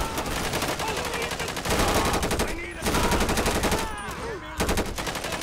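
A GTA 5 bank heist shootout brings loud, dense automatic gunfire in rapid continuous bursts, with only momentary breaks between volleys.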